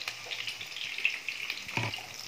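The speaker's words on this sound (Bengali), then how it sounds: "আলু ভাজা হয়ে গেছে," Potatoes frying in a pan for a home-cooked mutton lunch, a faint continuous sizzle with a soft stir or scrape near the end, no voices.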